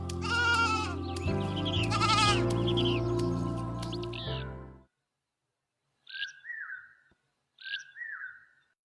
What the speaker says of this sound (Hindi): हम अपनी भेड़ों को लें और घर चलें।